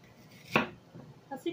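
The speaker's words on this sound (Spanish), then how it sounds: "El chile verde se lo vamos picando" A knife chops green chili on a board with one sharp, close cut followed by a few lighter taps. The cuts ring out with little else around them.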